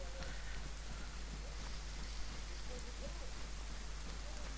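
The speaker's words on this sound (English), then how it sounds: "Nah, don't like it when it rains." Rain falling in the video game DayZ, a soft, even patter that continues without a break and stays faint and distant throughout.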